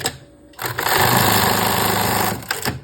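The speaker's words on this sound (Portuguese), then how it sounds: "E faz a costura" A sewing machine stitches delicate fabric for women's underwear, starting after a short pause and running in a loud, steady mechanical whir for about two seconds before slowing and stopping with a couple of final stitches.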